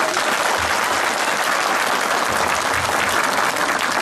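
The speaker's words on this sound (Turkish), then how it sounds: "bir alkış rica ediyorum" Loud, continuous applause from a large crowd at a Turkish municipal gathering, a thick unbroken wash of clapping that holds at full strength throughout.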